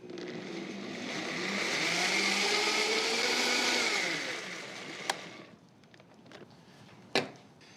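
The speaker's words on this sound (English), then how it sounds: "then we're just gonna blend this just till we combine it" Blender whirs loudly and steadily for about four seconds while mixing Dutch baby batter of milk and salt, then winds down to quiet kitchen clatter with a couple of sharp knocks.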